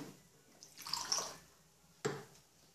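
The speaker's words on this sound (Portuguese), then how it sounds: "vou soltar um pouquinho de água só para dar uma limpada naquela sujeira" A little water is released into a Mueller washing machine whose agitator is clogged with dirt around the screw: a faint, quiet gush and splash, then a second short spurt.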